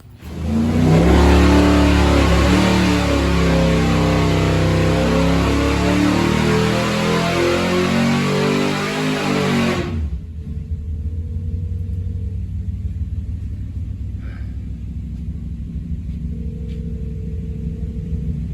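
A Big Block 400 V8 roars loudly on a dyno at high revs for about ten seconds, then drops abruptly to a steady, rumbling idle.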